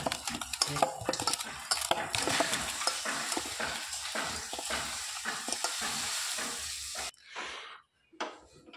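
Loud, continuous frying sizzle with frequent scraping and clattering as salted snails are stirred in a metal wok, then sudden near-silence with a last stir.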